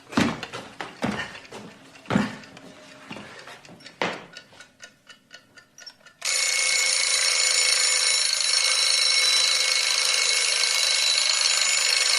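A continuous ringing alarm bell goes off during a stage performance of Samuel Beckett's Endgame, loud and sustained for several seconds after a stretch of scattered knocks and ticking clock-like clicks.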